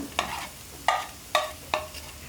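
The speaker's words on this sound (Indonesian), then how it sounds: "sekarang kita mau tumis bawang putih dan bawang bombay kebetulan minyaknya sudah kita panaskan langsung kita masukkan" Garlic and onion sauté in hot oil, with four sharp spatula strokes scraping the pan, each followed by a brief sizzle over a low background hiss.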